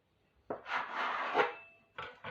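Knife cutting through a slab of Guyanese mithai dough into thin strips, a close, soft scraping rub that lasts about a second and is followed by a second short stroke, with no talking.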